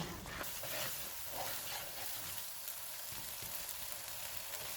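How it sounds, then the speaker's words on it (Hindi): Butter chicken masala frying in a pan over a medium flame, a soft continuous sizzle and crackle heard quietly throughout. "चूल्हे को मीडियम रखेंगे, इसको 6 से 7 मिनट तक भूनेंगे"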